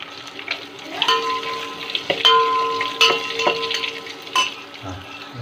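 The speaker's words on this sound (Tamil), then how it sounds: "வெங்காயம் வந்து நல்லா வதங்கிட்டு இப்போ கொஞ்சமாக பெருங்காயத்தூள் சேர்த்துக்கிறாங்க" Onions and asafoetida frying in oil as a tempering for mutton rasam, a steady close sizzle broken by a few sharp clangs of a stirring spoon against the pan.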